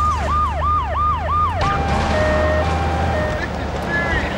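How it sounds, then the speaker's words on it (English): An ambulance siren in the video game Grand Theft Auto 3 wails in a rapid rising-falling cycle, then switches to a steady tone with shorter blips, loud and close over background game noise. "No, that's an ambulance."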